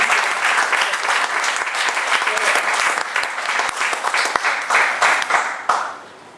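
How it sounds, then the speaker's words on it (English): An audience at a live event breaks into loud, sustained applause, dense overlapping claps holding steady for several seconds before quickly fading out at the end. "let's first give them a big round of applause for actually making this"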